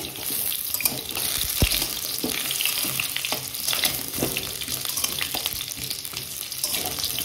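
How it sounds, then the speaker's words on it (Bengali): Potato pieces are fried and stirred in a pan for a vegetarian biryani without onion or garlic, giving a steady close sizzle with scraping stir strokes and a sharp clatter near the start, and no talking. "আলুগুলোকে একটু ভালো করে নাড়াচাড়া করে নেব"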